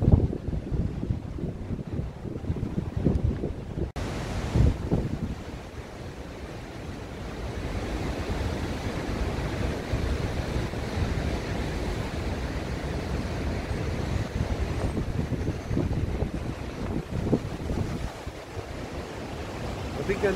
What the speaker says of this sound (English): very windy climate